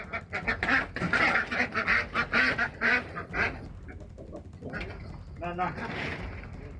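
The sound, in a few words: ducks quacking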